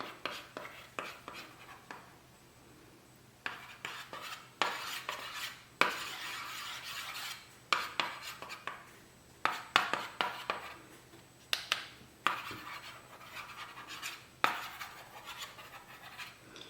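A stylus scratches across a kids' LCD digital writing pad in repeated strokes with short pauses between them, close and fairly quiet, with no speech.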